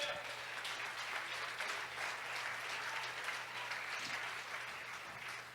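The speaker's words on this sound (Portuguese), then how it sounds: "Aplauda ao Senhor com alegria" Sustained applause from a congregation during a Baptist worship service, a steady broadband clatter of clapping lasting throughout at fairly even loudness, with faint voices mixed in.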